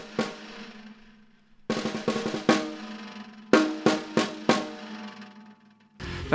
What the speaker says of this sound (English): when you get the snare wires and they sound a bit like this